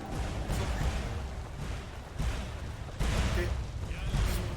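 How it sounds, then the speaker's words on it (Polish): Explosions in the Skyrim video game boom as broad, rumbling bursts, with a couple of sharper blasts landing in quick succession, heard under a voice talking at moderate volume. "Spokojnie, Jezus, ale wybuchy."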